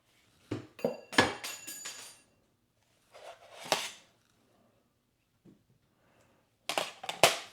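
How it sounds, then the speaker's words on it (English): Glass paperweights clink against one another in shallow flats: bright, sharp clusters of glassy knocks and rattles in several bursts separated by quiet gaps, close by, with one faint tap in between. "We have 3 flats"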